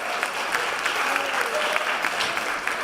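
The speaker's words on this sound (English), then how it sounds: "Big round of applause for our volunteers." A room of leadership-course participants gives a round of applause for volunteers, steady dense clapping from many hands filling the whole stretch at close range.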